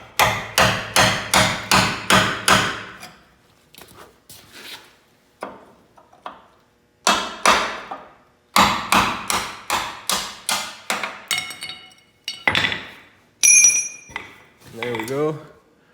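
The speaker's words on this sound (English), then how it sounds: "it with a hammer and a chisel delicately" A hammer strikes a chisel on a 1960s-era Chevy squarebody truck frame during a spring hanger install, with quick loud metallic blows in rapid runs and pauses, some ringing, close by.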